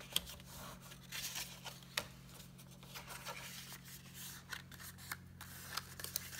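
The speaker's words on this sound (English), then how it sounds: "Then you're gonna fold on your score lines." Paper crackles and creases as a Halloween treat bag is folded along score lines, with scattered close, faint crisp snaps and rustles over a low steady hum.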